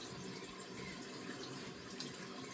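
Tap water running steadily onto a small facial scrubber at a bathroom sink, a constant close hiss and splash with no talking.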